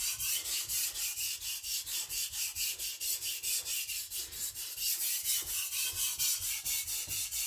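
A knife pushed back and forth over a diamond sharpening plate, a close, steady train of scraping strokes in an even rhythm with no talking.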